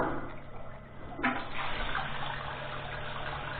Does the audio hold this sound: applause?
no